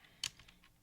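A few soft keystrokes on a computer keyboard while entering HTML code, one sharper click followed by several fainter taps, close and quiet with no talking.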